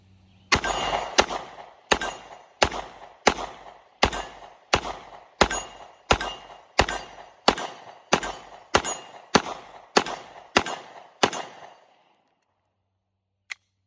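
Sixteen shots from a Canik METE MC9 LS 9mm pistol fire one after another at an even pace of roughly two per second, each a sharp loud crack with a short ringing tail, followed by silence and one faint click.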